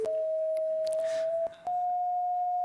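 Steady electronic tone from a head-mounted color-sensing eye representing red, a single pure pitch that shifts slightly partway through, with small clicks, a short dip and faint background noise.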